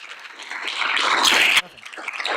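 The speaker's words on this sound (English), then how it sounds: "Round of applause to the other people in the MIT 100K." An audience at the MIT $100K Entrepreneurship Competition semi-finals applauds, the clapping swelling to a peak, cutting off sharply, then lighter scattered clapping resumes.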